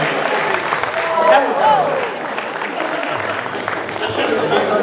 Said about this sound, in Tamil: பலத்த கரகோஷம் ப்ளீஸ்.